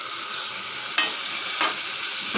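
Masala sautéed in a pan with yogurt stirred in for aubergine biryani, a steady soft sizzle with a few distinct scraping strokes of the spoon against the pan.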